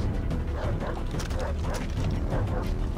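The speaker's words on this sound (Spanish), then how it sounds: "Un par de caninos." Dogs bark and yip in a Far Cry 3 game scene, with a rapid run of short barks and whimpers layered over game ambience and voices talking.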